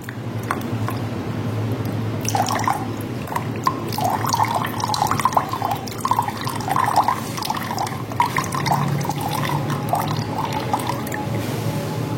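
Water is poured slowly from a cup into a betta fish hospital tank, making a soft continuous trickle with gentle splashes and drips close by.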